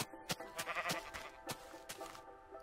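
Sheep bleating in the video game Minecraft, several short, close bleats repeating at irregular intervals over quiet background.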